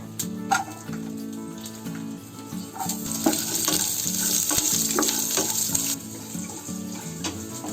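Whole spices, cumin and garam masala fry with seven or eight garlic cloves and a piece of ginger in a pan for paneer lababdar, giving a steady, close sizzle with occasional utensil clinks and a brief splash of running water.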